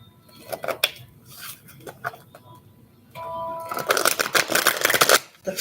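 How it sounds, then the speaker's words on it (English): A deck of tarot cards is riffled and shuffled by hand in short crisp bursts, ending in a louder sustained flurry of card flicks, close and alone. "Final shuffle for our message for today."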